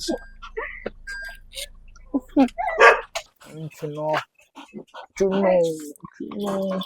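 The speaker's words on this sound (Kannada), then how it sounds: "ಅಯ್ಯೋ ನನ್ನ ಫೇವರೇಟ್ ನಾಯಿ ಗೈಸ್ ಇದು" A dog barks and yips in short bursts close by, mixed in with people talking over it.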